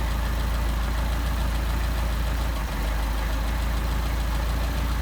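A car engine fitted with Solex 44PHH carburetors idles at around 675 rpm, a steady, loud, low rumble with an even lope and one tiny dip midway, no voices present.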